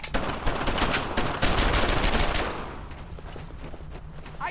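Loud, rapid bursts of automatic gunfire from the World War II shooter Brothers in Arms: Earned in Blood crackle densely for the first half, then thin into sporadic, more distant shots.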